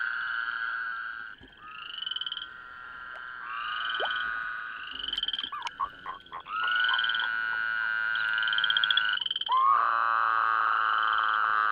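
Male Woodhouse's toads calling at shallow breeding pools, several loud, sustained trilling calls overlapping and following one another, close and clear, with brief gaps between bursts.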